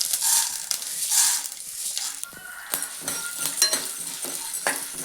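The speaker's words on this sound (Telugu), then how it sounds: "ఇప్పుడు అదే ప్యాన్లో కొద్దిగా ఆవాలు వేసుకుంటున్నాం ఇప్పుడు ఉద్దుపప్పు వేసుకున్నాం" Mustard seeds and urad dal frying in oil in a pan for curry leaf powder, a busy crackling sizzle with spatula scrapes and small pops, fairly loud and close throughout.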